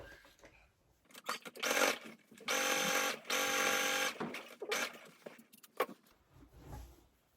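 A sewing machine top-stitches the front pocket of men's pants in short, uneven bursts of whirring, with a couple of longer runs in the middle and quiet handling gaps between them, heard close.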